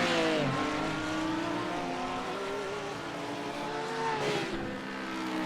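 Porsche and Audi GT3 race cars roaring around the Bathurst mountain circuit in a racing video game, engines droning steadily with shifting pitch and a brief burst of acceleration near the end, no voices.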